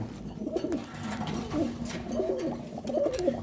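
Sialkoti pigeons coo softly, in repeated low throaty phrases over a murmuring background, close by and fairly quiet.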